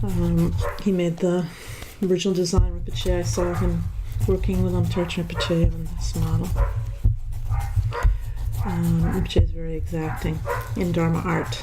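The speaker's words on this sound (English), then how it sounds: "Sorry about the dog barking." A dog barks repeatedly in the background of a home in Oakland, a run of sharp, fairly close barks heard under someone talking steadily.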